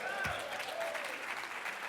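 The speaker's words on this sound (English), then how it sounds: "Y'all supposed to clap for that." Audience applause at a small business summit keynote: a steady wash of clapping with voices and a whistle mixed in, fairly faint and continuous throughout.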